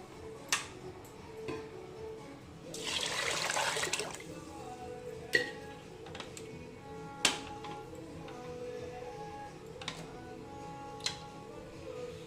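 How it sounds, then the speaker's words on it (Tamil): Water is poured onto washed rice and lentils for sambar rice in a short splashing rush lasting about a second, surrounded by scattered light clicks and taps in a quiet kitchen. "7 கிளாஸ் தண்ணி ஆட் பண்ண போகிறேன்."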